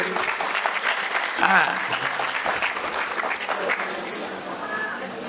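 Audience applause for a speaker at a Tamil pattimandram debate on wedding happiness, a steady dense wash of clapping throughout with some voices mixed in.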